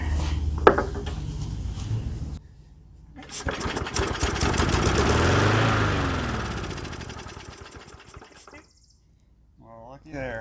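A broken lawn mower's small engine, primed with starting fluid sprayed into the carburetor, cranks briefly, then fires and runs loudly for several seconds before cutting out, with someone talking faintly before and after.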